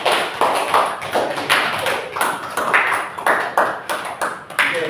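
A small group of people claps hands together in irregular sharp bursts of slaps, close and fairly loud, the claps fading and returning every second or so.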